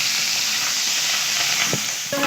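Garlic and ginger fry in a couple of spoonfuls of hot oil for keema-stuffed karela. A steady close sizzle runs throughout, with a few scraping spoon strokes near the end.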